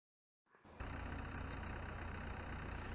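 A tractor engine starts up and settles into a steady low idle out in a field in Farming Simulator 17, a constant close rumble after a short silence at the start.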